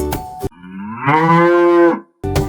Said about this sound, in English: Who says moo? Is it the chicken or the cow?